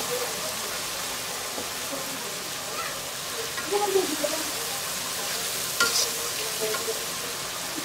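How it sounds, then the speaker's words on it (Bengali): Soft, steady sizzling as a little water is added to a hot pan for chicken curry, with faint crackles and a few stirring clinks, a low continuous hiss. "গরম হয়ে গেছে, একটু পানি দিয়ে দিলাম"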